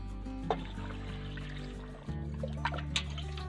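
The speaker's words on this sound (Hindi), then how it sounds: "तो यहाँ पर अब हम पानी शामिल कर देंगे।" Water pours steadily into a metal pressure cooker, a continuous trickling fill with a low background hum and a few small clinks.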